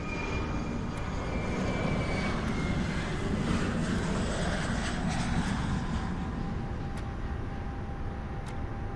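An Airbus A380 in X-Plane 11 rolls for takeoff on runway 22 right at New York JFK, its jet engines giving a loud, steady, broad roar that holds without pause.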